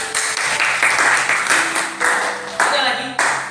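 A classroom of students claps in short bursts, several rounds of applause starting and fading in quick succession, close and moderately loud, with a voice speaking over it.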